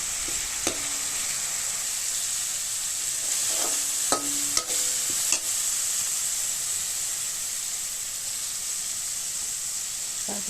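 Onions, sliced green chillies and a little sugar fry in a pan of oil, giving a steady close sizzle, while a spoon scrapes and clicks against the pan in a few sharp knocks.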